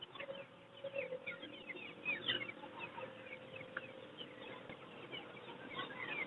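Chickens cluck in a steady, overlapping chorus at a Sunday bird market in Chichawatni. The clucks are fairly faint and continuous, with busy background noise and no clear talking.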